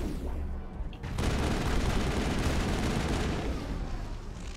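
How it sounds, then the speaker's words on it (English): A grenade explosion from a film, heard as a sharp blast followed by a dense, sustained rumble of booming and crackling gunfire-like noise that stays loud to the end. "That's a grenade."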